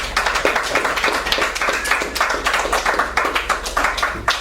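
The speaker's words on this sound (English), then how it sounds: "So give her a round of applause for putting up with me." An audience gives a round of applause, dense, steady clapping from many hands that holds at an even level for a few seconds without voices.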